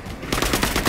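Rapid automatic gunfire in the video game Marvel's Avengers, a loud fast burst of repeated shots starting abruptly and rattling on evenly to the end.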